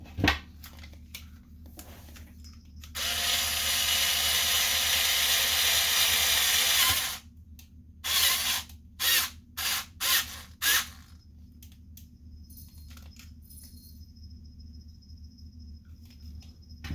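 A nut is tightened onto a bicycle rear shock mount: one sustained, rapid, raspy mechanical whirr lasting several seconds, followed by a string of shorter, separate bursts of clicking, all close by against a low, steady background hum.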